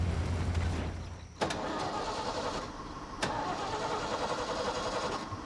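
An old truck at a remote 10,000-foot mountain camp cranks and catches, its engine starting with a sharp jolt and then settling into a steady, rough mid-pitched idle with another brief surge partway through.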